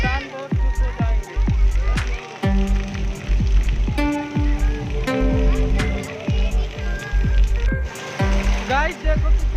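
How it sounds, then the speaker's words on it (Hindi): Heavy rain pours down on a village in Balrampur, Uttar Pradesh, a dense steady wash broken by sharp, rapid drips and taps, with a voice and tonal sounds layered over it. "गाइस देखो कितना बारिश हो रहा है अभी हमारे इधर यूपी में, बहुत तेज बारिश है।"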